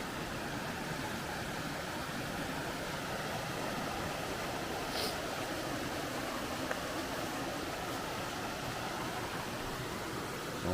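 Creek flowing beside a hiking trail at Black Rock Mountain State Park, a steady broadband rush of water, even and moderately loud, continuous throughout with no talking.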